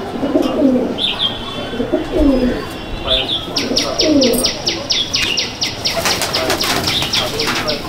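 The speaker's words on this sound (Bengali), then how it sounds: "খুব সুন্দর দেখতে পায়রাটা" A female golden pigeon coos in a steady series of throaty, rolling calls close by, then rapid wing flapping clatters in quick beats toward the end.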